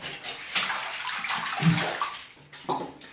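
Lego pieces being washed by hand in a tub of water, with steady sloshing and splashing that swells and pauses in short bursts, close and fairly loud, with no talking.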